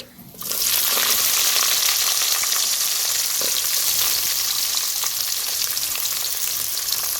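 Cumin, mustard seeds and onions frying in hot oil for a village-style cabbage curry, a loud, dense sizzle that bursts in suddenly and holds steady, close up with no talk.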